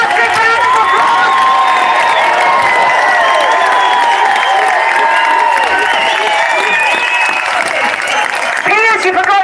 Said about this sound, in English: Let's hear a massive round of applause.